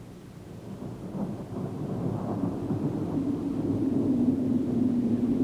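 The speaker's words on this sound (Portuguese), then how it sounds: "O início de um temporal quase sempre inclui fortes rajadas de vento e chuva torrencial." A low rolling rumble builds steadily under a dense wash of noise, like distant thunder with wind and rain.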